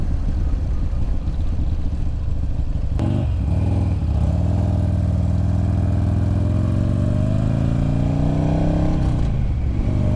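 A 2006 Buell Ulysses motorcycle engine runs loud and close while riding, a steady rumbling drone that dips briefly then pulls strongly through a sustained rising acceleration, with no voices.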